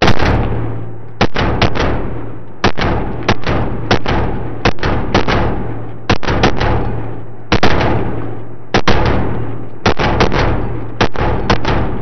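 A Smith and Wesson M&P9 M2.0 Metal Carry Comp compensated pistol fires sharp, loud shots, some in quick doubles and others spaced about a second apart, each with a short echoing decay outdoors.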